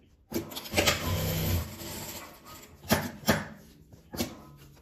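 A sewing machine stitching around the edge of a fabric panel, running in several short mechanical bursts separated by brief pauses, close and moderately loud.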